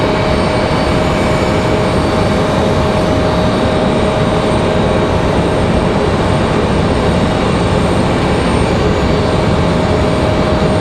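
An American Airlines Boeing 737-800 arrives at stormy Raleigh-Durham airport with a loud, constant broadband engine roar and a steady high tone running through it, unbroken for the whole stretch.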